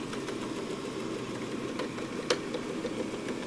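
A robot vacuum cleaner runs with a steady low motor hum and brushing noise, close and continuous, with one brief sharp click partway through.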